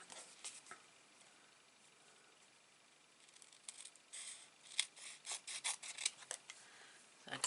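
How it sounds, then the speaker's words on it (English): Scissors snip through craft card stock for a handmade selfie card, with quiet, close scraping cuts and a series of sharp crisp snips that cluster in the latter half. "Scissors again."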